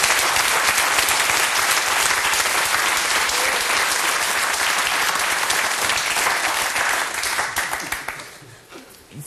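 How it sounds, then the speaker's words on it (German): Studio audience applause at a German television comedy show, a dense, steady wash of clapping that holds loud for about eight seconds before thinning and fading out. "Applaus, Applaus, Applaus!"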